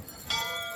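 A bell in the video game Syberia, struck once and ringing on as a clear, bright tone that lingers to the end of the short moment.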